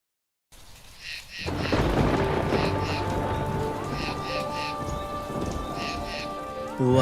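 Steady heavy rain pours on a surface while thunder rumbles through it, continuous and fairly loud, with a melodic musical backing underneath and no talking.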